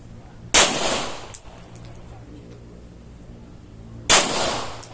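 Two sharp, loud shots from a 1911 pistol at target practice, a few seconds apart, each ringing out and decaying, with a quieter metallic clink between them.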